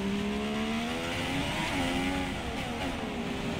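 A Formula 1 car engine in the F1 2016 video game at Monaco screams at high revs, a continuous loud whine rising and dipping slightly through gear changes, with no talk.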